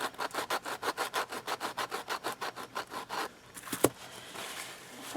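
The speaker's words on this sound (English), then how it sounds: "Just make sure all of your edges get sanded." A cured polymer clay cuff bracelet having its edges sanded by hand, a fast, even run of rasping back-and-forth strokes, close and steady, then a brief pause, a knock, and softer rubbing.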